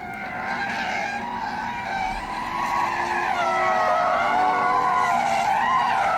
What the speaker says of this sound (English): there's like fake exhaust noises as well